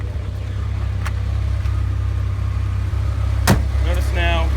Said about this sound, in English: Notice now how the engine has really smoothed out because the chokes have been off, so it runs excellently.